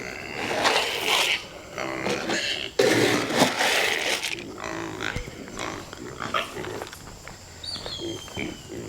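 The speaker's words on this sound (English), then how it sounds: "Hey, Herc, go talk to those pigs." Farm pigs grunting and oinking close by, irregular snorts mixed with a few bird calls and insect chirps outdoors, with brief human voices in between.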